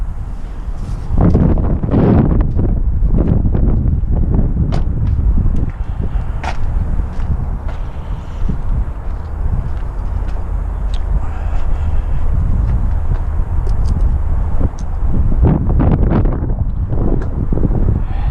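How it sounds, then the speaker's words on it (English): Strong wind buffets the microphone with heavy low rumbling gusts throughout, joined by occasional faint clicks and rustles. "It's been very windy today"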